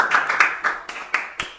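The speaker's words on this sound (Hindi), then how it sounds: "ताली बजते रहना चाहिए आई थिंक।" A small audience at a prize distribution ceremony claps in a few loose, separate bursts, sharp and close, thinning out over the short stretch.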